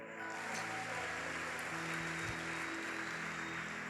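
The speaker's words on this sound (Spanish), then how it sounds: "Dale un fuerte aplauso a Él." A church congregation breaks into sustained applause, a dense, even wash of clapping that holds steady throughout with a low hum underneath.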